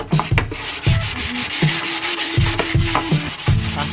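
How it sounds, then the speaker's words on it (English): Plywood board sanded by hand, a steady rasping rub with repeated back-and-forth strokes, close and fairly loud, with no voices. "you should sand it very well."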